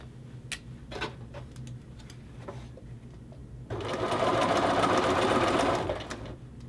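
Domestic sewing machine stitching a men's shirt collar from pin to pin toward the tip, a steady close whirring run that swells loud for a few seconds after quieter ticking and handling.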